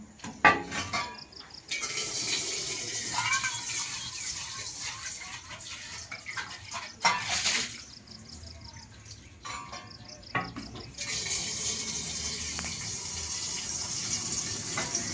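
Water runs from an outdoor tap in long gushing stretches while a container fills, with brief pauses and a few clinks of metal pots, and faint voices in the background.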